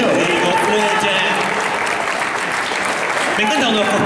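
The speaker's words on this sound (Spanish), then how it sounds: "y fuerte el aplauso para la dupla de Rodrigo Roger." Audience at a cosplay contest applauds loudly and steadily, a thick clapping wash with a presenter's voice speaking over it.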